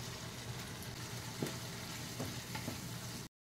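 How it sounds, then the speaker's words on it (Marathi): Fried paneer goes into spinach paste in hot oil, giving a steady sizzle and crackle with a few soft clacks of the spoon or pan. Nobody speaks. "आता ह्याच्यामध्ये हे पनीर भाजलेले आपण तेलामध्ये ते घालत आहे।"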